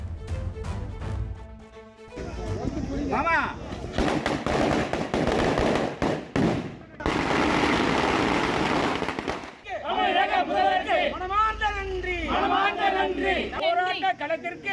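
Villagers in Ekanapuram set off firecrackers in celebration: rapid strings of sharp cracks and bangs crackle loudly and continuously, with crowd noise and voices mixed in and shouting toward the end.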